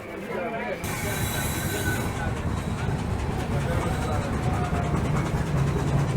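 Passenger train 05932 pulls out of NJP station, its low, continuous rumble and wheel noise steady and close, heard from a window seat inside the coach.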